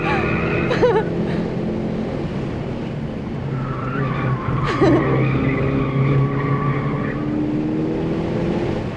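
A race car slides through corners on the hilly Pineview Run long course at a trackday, tires squealing in drawn-out wavering tones over a steady engine drone, with people talking alongside.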